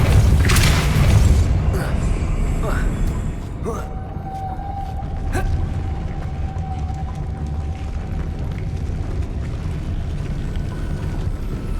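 The Depulso spell is cast in Hogwarts Legacy: a heavy boom erupts at the start, then fades into a long ringing tail and a low rumbling ambience with smaller thuds.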